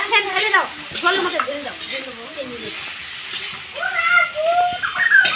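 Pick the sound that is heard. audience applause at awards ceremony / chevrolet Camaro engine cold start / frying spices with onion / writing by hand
frying spices with onion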